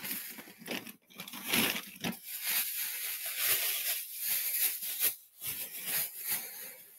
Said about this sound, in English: So I'm just going to use some plastic bags.